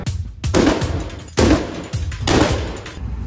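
AK rifle fired at a shooting range, half a magazine per shooter: three bursts of rapid gunfire in quick succession, loud and close, with short pauses between them.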